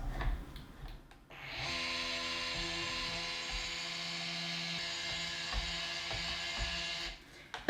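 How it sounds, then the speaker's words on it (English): A stick blender whirs steadily through cold process soap batter for about six seconds, a mechanical motor hum with faint rattles that starts and stops abruptly, with no talk. "I'm just going to blend it quite gently because I want to just take it to an emulsion"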